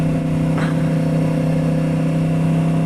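A Yamaha R1 motorcycle with a freshly flashed ECU from Superbike Unlimited idles and revs, producing a loud, steady, close engine drone with no talk.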